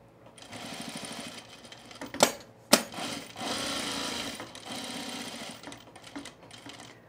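A sewing machine stitches the flap of men's cargo shorts, its needle buzzing in a fast steady run close by, broken by two sharp clacks early on.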